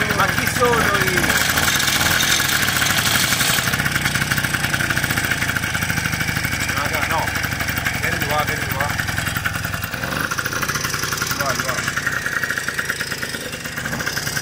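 A Vespa 50 XL scooter engine idles steadily and loudly close by, a continuous rapid putter with a slight rise and fall, and voices are heard over it.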